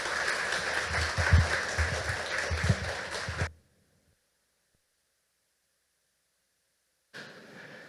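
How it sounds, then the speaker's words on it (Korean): A church congregation applauds warmly to welcome a missionary, a dense, steady clatter of many hands lasting a few seconds before cutting to silence, then briefly resuming. "우리 뜨겁게 박수로 환영하겠습니다."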